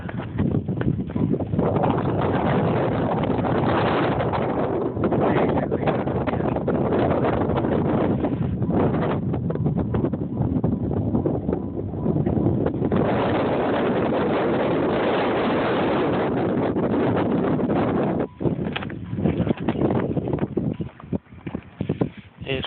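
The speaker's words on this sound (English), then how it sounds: "decent exhaust on this thing." A 1995 Jeep Grand Cherokee's running engine and exhaust give a loud, steady rumble that carries through the whole stretch, with some wind buffeting the microphone and a speaking voice over it.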